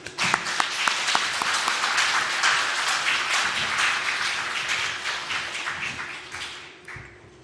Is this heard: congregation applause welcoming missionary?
yes